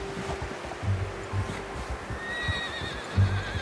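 A horse in Red Dead Redemption 2 gives a clear whinny over soft clip-clop hoofbeats and a low ambient bed, with a trailing high squeal near the end and no voices.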